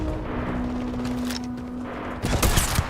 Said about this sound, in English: Why are we throwing grenades over here